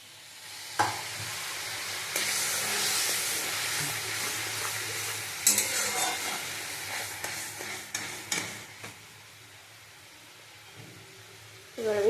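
Mustard, poppy seed and green chili masala with salt and turmeric sizzles and steams in a wok while a spatula scrapes and stirs it, a continuous frying hiss that fades near the end.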